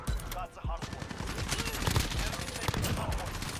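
Gunfire in Call of Duty: Modern Warfare multiplayer, a dense stream of rapid shots and bursts running steadily throughout, loud and close, with other game sounds mixed in.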